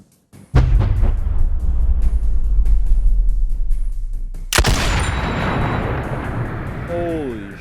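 Firing a 20mm anti-tank rifle through its scope in Boneworks: one thunderous close shot cracks out, then a long heavy rumble decays, with a faint voice underneath and a short bright whistle near the end.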